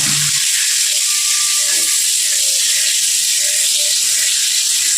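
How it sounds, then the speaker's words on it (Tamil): Two large onions fry in hot oil with green chillies, giving a loud, steady sizzle and hiss that carries unbroken throughout, with no talking. "பெரிய வெங்காயம் 2 போட்டு நல்லா வதக்கிக்கணும் கொஞ்சம் நேரம்."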